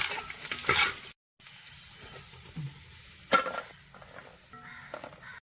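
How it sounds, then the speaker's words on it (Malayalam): Cashews and raisins fry in hot ghee with a close, crackling sizzle and brief stirring scrapes, broken by a short gap of silence and a few light clinks. "കാഷ്യൂ മുന്തിരിയും കൂടെ നമുക്കൊന്ന് വറുത്തെടുക്കാം"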